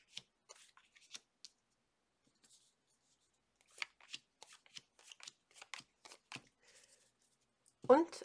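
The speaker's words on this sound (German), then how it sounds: "Dann brauchen wir noch Karten vom Crowley Tarot." Crowley tarot cards being shuffled by hand, a sparse run of soft riffles and flicks, close and quiet, ending in a louder burst of card rustling.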